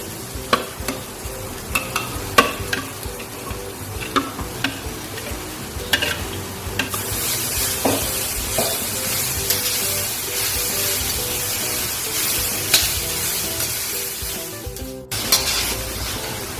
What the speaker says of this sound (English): So now I'm going to add all the mixed veggies there.